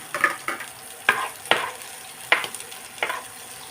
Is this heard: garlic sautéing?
yes